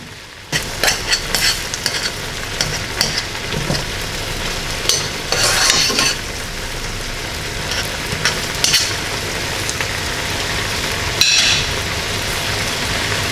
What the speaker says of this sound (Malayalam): ഇത് നന്നായിട്ട് തിളച്ചിട്ടുണ്ട്